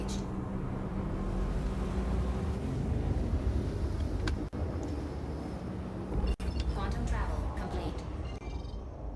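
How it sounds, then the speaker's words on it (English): Steady low rumble of a Nomad ship's engines in Star Citizen, a continuous broadband hum with wind-like hiss, loud and close throughout with two brief dropouts. "I do like the engine sounds on this one too."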